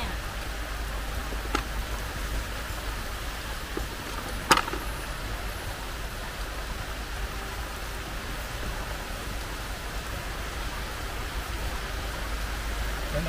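Steady, soft hiss of rain falling, even and continuous, with a couple of faint clicks and no voices.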